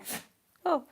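A single short, breathy sneeze bursts out after a brief spoken exclamation, close and clear in a quiet room.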